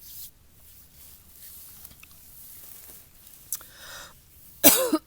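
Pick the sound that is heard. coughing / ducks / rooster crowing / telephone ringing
coughing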